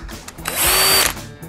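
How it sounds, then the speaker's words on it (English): A cordless power drill spun up briefly in a workshop: a loud, close whir of about half a second that rises and stops, with small handling clicks before and after and no talk. "I'm gonna put this into our drill."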